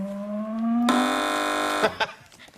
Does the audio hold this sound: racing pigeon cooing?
no